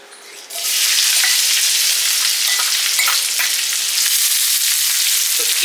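Onions drop into hot oil with curry leaves in a pan and break into a loud, steady sizzle that keeps going close by, with no talk.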